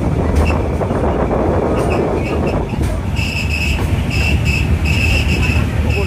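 A passenger train on the Cox's Bazar line runs steadily with a loud, continuous rumble and rattling wheel noise, with a few sharp metallic clicks and high squeals, heard from on board.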